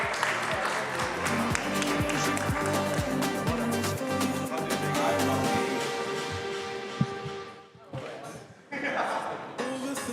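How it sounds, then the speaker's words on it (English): Summit audience at a live event in Lisbon gives a round of applause, a broad steady clapping wash under a voice and a rhythmic thumping beat, dipping briefly near the end before resuming. "Round of applause. Thank you, Bruno."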